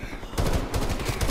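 An enemy sentry turret fires in Call of Duty: Black Ops Cold War, a rapid, continuous stream of loud, close automatic gunfire that picks up in intensity partway through.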